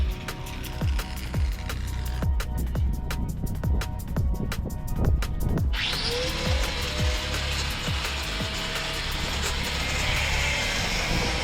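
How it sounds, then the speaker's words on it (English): A power tool cutting through stainless steel on a sailboat, a rapid series of sharp grinding pulses that give way to a continuous high whine near the end, close and steady, with no talk. "I think I'm through the stainless, cut all the way."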